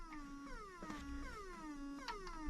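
Sound circuits built from 555 timers on a Galaxian arcade board produce the alien rack movement sound, a faint, steady electronic tone that repeatedly sweeps downward in pitch, looping about every half second with a buzzy background hum.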